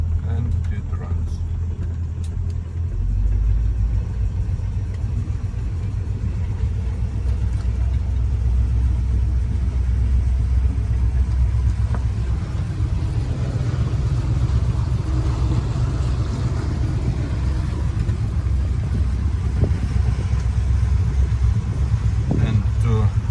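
An OMC outboard motor with electric shift running in forward, a loud, steady low-pitched engine drone that carries on unbroken from near the start, heard close up with no talk over it.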